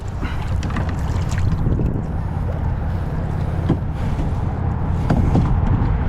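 Wind gusts across open water around a fishing kayak, a steady close roaring rush that buffets the microphone and persists throughout with only slight swells and no speech.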